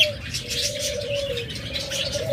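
Caged budgerigars and lovebirds chirp nonstop, a dense overlapping chatter of small bird calls with a sustained tonal note running through, close and fairly loud.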